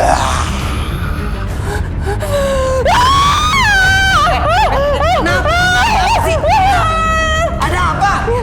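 Woman screaming with rising, wailing cries in an Indonesian TV drama scene, loud and sustained over background hubbub and voices.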